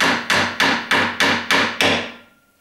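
A hammer drives a pin into a wooden drawer runner with seven evenly spaced, sharp, loud blows. Each strike rings out briefly, and the last one fades away.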